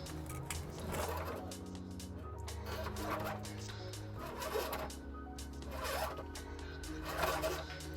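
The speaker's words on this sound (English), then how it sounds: "We're going to secure the power wire to these lines with some zip ties." Zip ties ratcheting tight around a trailer wiring harness power wire under a 2020 Chevrolet Malibu, several zipping pulls recurring about once a second over a low steady hum.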